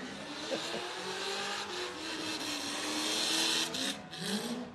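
A truck engine revs hard and continuously at the Summernats car festival in Australia, loud and close with a rising, roaring drone that swells and dips.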